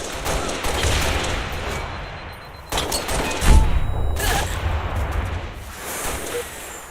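Rocket and grenade launcher fire in the Halo video game: a dense, continuous wash of blasts and booms, with one heavier low impact partway through and no talk over it.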